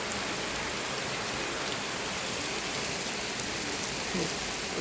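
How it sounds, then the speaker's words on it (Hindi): Heavy rain with large, fat drops pours down steadily, a dense, unbroken wash of drops hammering a surface close by, with no pauses throughout. "रात तो पूरी मोटी मोटी पतासा सी बूंद है जमा, तेज बारिश है।"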